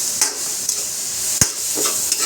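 Banana heart sizzling in a frying pan while being sautéed with shrimp for ginataan, with a steady hiss and a few sharp scrapes and clacks of a spoon stirring, close up.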